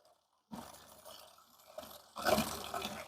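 Water pours into a bucket of detergent washing powder, starting with a soft splashing stream and swelling into a louder, frothy gush as foam builds.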